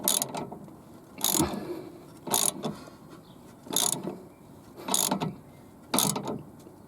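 A spanner wrench tightens the collar on a car's coilover. Six evenly spaced metallic ratcheting clicks, each a short sharp burst roughly a second apart, sound close against a quiet garage background.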